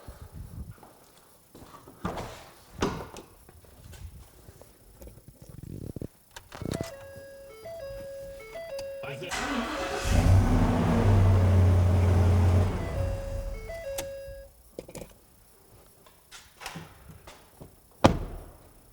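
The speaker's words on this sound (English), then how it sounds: "Let's try starting the truck." A truck engine cranking and catching under a portable jump starter, a loud low rumble building mid-clip for a few seconds among clunks and knocks, then settling.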